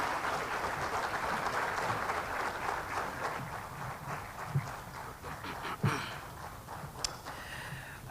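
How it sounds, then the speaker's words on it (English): Sustained applause from a conference audience in Nairobi, Kenya, welcoming the Deputy President of Kenya onto the stage at a health scientific conference; dense steady clapping fills the room throughout, with a few sharper claps standing out near the end. "Let us clap until he gets up on stage"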